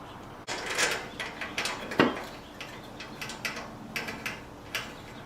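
Metallic clicks and ratcheting of a wrench turning bolts on steel exhaust pipes of a Honda VTX1300R motorcycle, short uneven bursts close by with a sharper clank near the middle.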